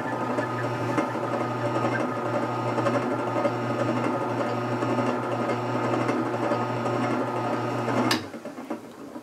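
A low-RPM juicer with a slow, high-torque auger motor runs with a steady mechanical hum and faint rattling throughout, then cuts off abruptly near the end, leaving quieter room noise.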